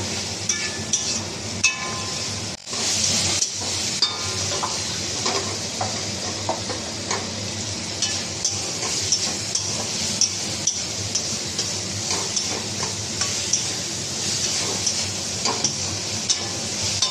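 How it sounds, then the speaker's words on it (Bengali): Hog plums with turmeric fry in a pan with a quiet, steady sizzle, broken by repeated sharp clicks and scrapes of a utensil stirring against the metal, close and without talk. "একটু হলুদ, তো আমড়াগুলো একটু ভালো করে ভেজে নেব।"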